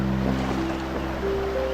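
River water at Camp Gilmore campsite in Laguna where people are bathing, a steady broad rush of flowing water with a faint constant hum beneath, no speech.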